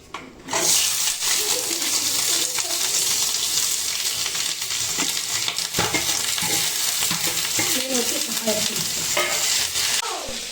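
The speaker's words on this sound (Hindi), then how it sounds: "मैं आपको दिखा के प्याज फ्राई हुई है" Onions frying in less than a spoonful of oil, a steady dense sizzle with continuous stirring scrapes throughout, close and fairly loud.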